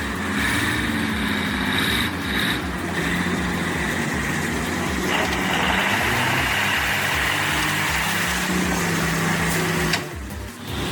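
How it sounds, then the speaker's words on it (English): A Scania 143 V8 timber truck engine runs steadily and loudly throughout, a deep continuous rumble with a rhythmic low pulse, working in a forest setting alongside timber harvesting, before easing slightly near the end. "doesn't the V8 engine of the Scania 143 sound amazing?"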